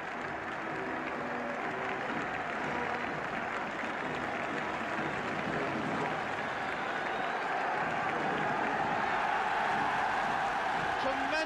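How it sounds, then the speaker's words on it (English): A large football crowd roars and cheers for Aston Villa at Wembley after the 1971 League Cup Final, a dense, sustained wall of applause and shouting that holds steady and swells slightly toward the end. "Tremendous cheering for Aston Villa."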